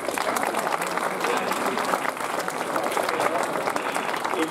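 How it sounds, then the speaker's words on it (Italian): Steady applause from an audience at a ceremony in Fermo handing over defibrillators, dense clapping holding evenly for the whole stretch without a break. "Applauso, grazie."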